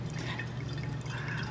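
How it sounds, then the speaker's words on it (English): Svedka vodka is poured through a funnel into a container, a soft continuous trickle and drip of liquid over a low background hum, faint and without talk. "Now funnel in and we'll start pouring our Svedka right inside."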